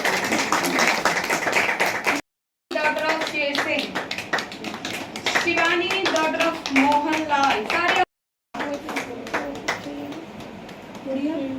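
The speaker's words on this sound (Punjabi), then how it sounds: "ਤਾੜੀਆਂ ਬਈ ਵੱਡੇ ਵੱਡੇ" Audience clapping for women receiving certificates after free sewing training in Faridkot, a dense patter of many hands running through nearly the whole stretch, with brief gaps and voices talking over it.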